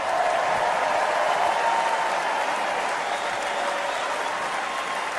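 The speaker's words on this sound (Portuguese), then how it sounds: "a plateia bate palmas" An audience applauds during a Trump speech, a sustained, dense wash of clapping from a large crowd, steady and loud throughout with no pause.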